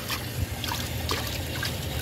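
Rinse water from a Kohler Elmbrook toilet trickling and dribbling into the bowl, a faint, steady watery patter with small splashes close by.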